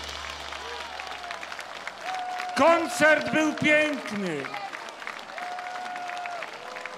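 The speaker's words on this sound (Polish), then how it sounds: "Wielkie brawa!" An audience claps after a concert by a Polish band, a burst of applause rising and fading while a presenter speaks over it.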